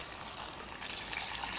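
Chile soaking water poured from a pot into another pot while making oven-baked adobo pork leg, a steady close liquid gush and splash running unbroken throughout, with no talking.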